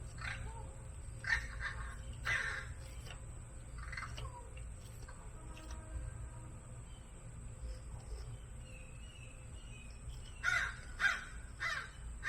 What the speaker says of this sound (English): There's a murder of crows that hang out around here.